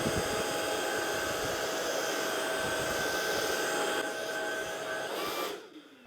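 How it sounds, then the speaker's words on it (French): A Proscenic P11 Smart stick vacuum with its brush head sucks up a pile of hair, making a loud, steady high-pitched motor whine that stays constant and then cuts off near the end. "Je vais les aspirer avec cette brosse."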